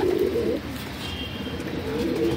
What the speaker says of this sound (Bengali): খুব ভালো ভালো জেনারেশনের পায়রা আছে এখানে